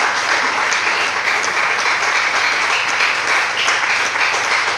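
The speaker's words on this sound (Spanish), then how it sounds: "Brinden un aplauso" A church congregation applauds during an evening sermon, dense, loud clapping that forms a continuous wash of sound for several seconds with no voice over it.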